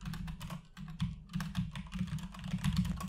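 A Minecraft command is typed on a computer keyboard, a quick run of close, crisp key clicks in uneven bursts over a low steady hum, with no talking.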